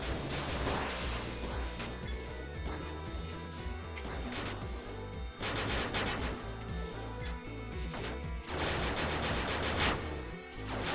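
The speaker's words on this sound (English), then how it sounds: "See, this is the shotgun" Fully upgraded, powered-up shotgun in the PC game Alpha Version.0 blasting repeatedly, loud bursts of gunfire and crashing impacts packed densely over a continuous, busy game soundtrack.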